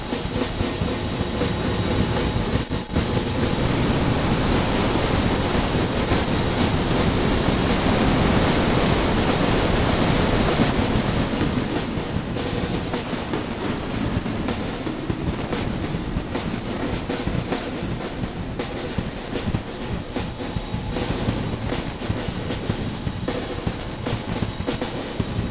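A dense, washy wall of reverberant sound from the Airwindows Chamber2 reverb plugin rumbles on loudly and steadily, its smeared tail thinning out somewhat in the second half.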